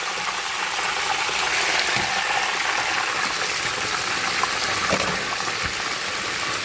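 Pork frying in a pan, a continuous loud hissing sizzle with occasional small pops and clicks throughout.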